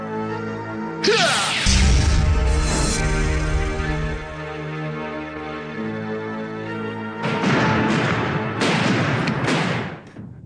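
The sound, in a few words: explosion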